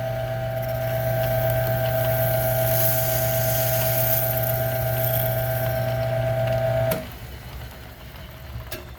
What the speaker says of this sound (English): the last cut I'm going to make about an 1/8 inch from the center of that groove